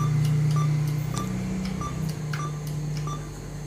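ATM keypad beeps at a Bank BJB machine as a registered phone number is keyed in for a cardless cash withdrawal. Five or so short, evenly spaced beeps sit over a steady low hum.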